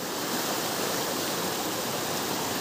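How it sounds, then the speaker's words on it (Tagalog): A river rushing hard and close, a steady, loud roar of turbulent water with no break and no voices. "rumaragasa yung tubig mga kalahi"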